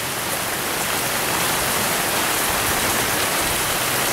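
Heavy rain pouring down outdoors at night, a loud dense unbroken hiss of falling water with no break or voices.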